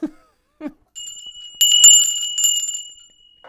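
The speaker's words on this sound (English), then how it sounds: "Tinkly bells." Tinkly little bells jingle brightly for about two seconds, close and clear, after a couple of brief vocal sounds in an otherwise quiet room.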